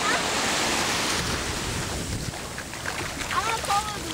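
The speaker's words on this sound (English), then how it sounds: "Just watch where the waves are so you know when the water's coming in." Ocean surf on a beach at Santa Cruz washes in as a steady broadband rush, with wind buffeting the microphone and faint high chirps near the end.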